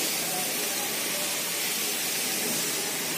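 Onions frying in hot oil while being stirred steadily, a loud continuous sizzle that holds even and close with no pauses.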